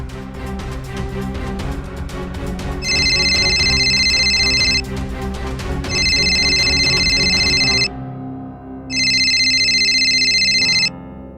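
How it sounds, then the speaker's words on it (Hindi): A phone rings in three long bursts of a bright electronic trill, separated by short pauses, over steady background music that drops away near the end. "किसका फोन है?"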